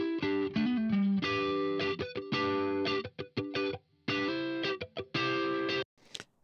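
Distorted electric guitar plays a choppy part for a modern pop track, loud and close, with short rhythmic stabs and brief gaps between sustained chords.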